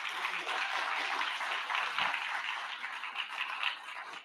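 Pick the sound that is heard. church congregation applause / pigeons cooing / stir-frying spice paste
church congregation applause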